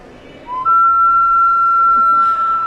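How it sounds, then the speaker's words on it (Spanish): An anthropomorphic ceramic whistling bottle with a reverberant chamber gives off one steady, clear high whistle that starts about halfway in and holds level and loud to the end, over a soft noisy background. "Es antropomorfo, whistling bottle. Botella antropomorfa con cámara reverberante."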